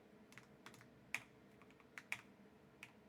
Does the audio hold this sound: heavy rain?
no